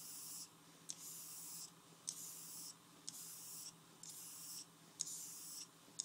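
Henckels straight razor drawn across an Okudo tomae natural sharpening stone under light pressure, a run of soft rasping honing strokes in steady rhythm with short pauses between passes, close and quiet with no talk.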